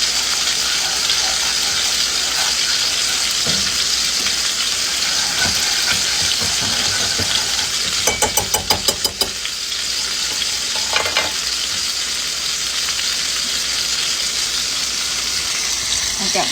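Pork chops frying in a pan give a steady, close sizzle that runs the whole way through, broken briefly by a few sharp clinks and scrapes.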